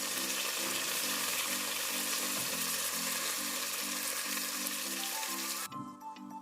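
Soaked, washed moong and chana dal go into frying onions, a loud dense sizzle with a low rhythmic droning hum, which drops off sharply near the end.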